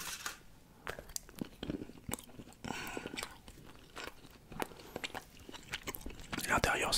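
Someone bites and chews Kinder advent calendar chocolate up close, giving soft irregular crunches and mouth sounds spread over several seconds, quiet and intimate in tone.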